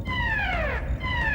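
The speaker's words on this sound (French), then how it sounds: "Désolé, c'est notre alarme." An alarm sounds in the Power Rangers base: a loud electronic wail whose pitch sweeps downward, then starts again, filling the whole short stretch with no voices.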